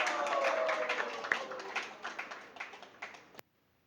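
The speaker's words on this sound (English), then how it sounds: "So let us welcome with a loud round of applause His Grace Arjun Priya Prabhu." An audience at an ISKCON gathering claps to welcome a speaker, a quiet scattering of hand claps that thins out and stops abruptly, heard from a distance.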